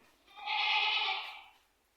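A single drawn-out bleat from a young goat, fairly close, rising and fading over about a second with no other sounds around it.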